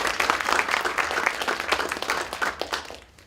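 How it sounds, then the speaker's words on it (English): An audience applauds with dense, lively clapping that holds steady, then thins out and fades at the end. "Let's give him a big round of applause."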